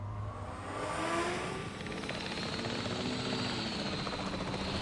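A helicopter in Jurassic World Evolution 3 flies steadily with a continuous rotor whir and engine drone, holding a constant, fairly loud level throughout with no voices.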